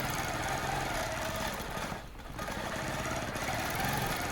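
ProStitcher computerized quilting machine stitching swirls into a quilt, a steady mechanical hum and rapid needle chatter, close and continuous with a brief dip midway.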